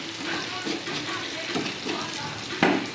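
Goat brains frying with onions and spices over a low gas flame, giving a steady soft sizzle with light stirring scrapes and a brief louder burst of crackle near the end.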